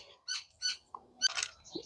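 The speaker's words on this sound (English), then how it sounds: "Birds chirping." Birds chirp outdoors in a few short, bright calls, close and fairly clear, followed by a couple of softer chirps against quiet surroundings.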